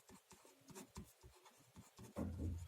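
Chalk or marker scratches out short, quick writing strokes on a classroom board during a physics lesson, close and fairly quiet, in bursts with brief pauses and a heavier rub at the end.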